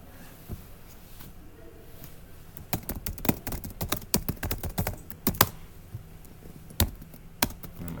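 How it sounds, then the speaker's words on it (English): Quick, uneven clicking of fingers typing on a computer keyboard during a computer science lecture. The bursts of keystrokes come close and fairly soft, with short pauses between runs. "my typing's on point today."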